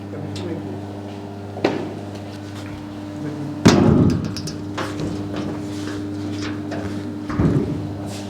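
Metal door of an electrical control panel opened and shut, giving a few sharp clunks and one heavier bang at close range over a steady hum, with faint voices in the background.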